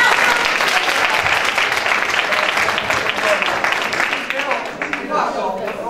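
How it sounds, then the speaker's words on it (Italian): An audience at a school conference applauds with loud, sustained clapping that fills the room and tapers off slightly toward the end. "applauso a te."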